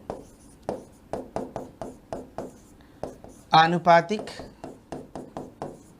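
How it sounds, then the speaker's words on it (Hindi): A pen scratches out notes by hand in quick, regular strokes close by, while a person briefly speaks partway through. "तो पहले हम इसमें लिख लेते हैं।"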